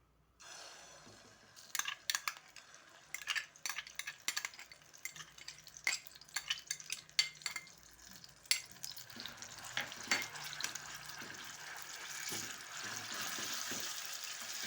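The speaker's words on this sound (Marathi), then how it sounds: "आता चांगला परतू देते" Green chili thecha with onion and tomato sautéing in a pan, a soft continuous sizzle broken by frequent scraping stirs and spatula taps, fairly close and quiet, with no talk.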